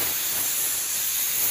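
A spray paint can hissing out paint for an ice effect on a painting, one continuous close, bright hiss holding steady at even loudness throughout.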